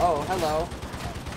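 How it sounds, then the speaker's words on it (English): Chain gun fire in Warhammer 40K Darktide rattles in a dense rapid stream, loud and close, with a short spoken greeting over the first half. "it was that fucker down there with the chain gun"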